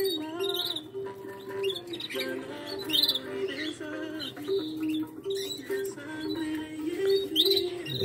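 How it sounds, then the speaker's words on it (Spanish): Small birds chirp and tweet steadily in an indoor breeding room, with bright overlapping calls and a few coos over a constant low hum. "Y aquí estamos con los pajaritos"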